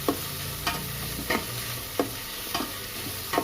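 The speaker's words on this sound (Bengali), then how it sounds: "আমি চিকেনের কুচিগুলো, যেগুলো আমি আগে থেকে কিমা করে রেখেছিলাম, সেই চিকেনগুলো আমি অ্যাড করে দিলাম" Minced chicken hits a hot frying pan, followed by a steady sizzle broken by about six sharp, evenly spaced scrapes of a spatula stirring it, close and clear with no talking.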